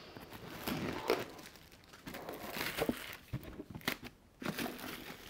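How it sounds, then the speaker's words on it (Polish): Plastic shrink film being peeled and torn off a board game box, giving close, irregular crinkling and crackling bursts with short pauses between them. "Tutaj zwykła folika."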